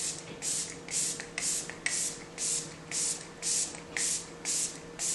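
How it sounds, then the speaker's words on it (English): A bottle of Rare Beauty setting mist is shaken hard and sprayed onto a face, giving a steady train of about ten quick, close hissing bursts at a regular rhythm with no talking. "just give this a really, really, really good shake and spray the face."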